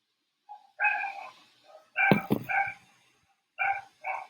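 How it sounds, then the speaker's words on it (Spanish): Neighbourhood dogs bark in short clustered bursts, several yaps close together with brief pauses between them, fairly loud and with no other sounds. "Ahora son mis perritos los que andan alocados."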